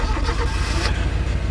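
A loud, continuous car engine drone from the Enviro-bear 2000 driving game, steady and rumbling with slight fluctuations in pitch.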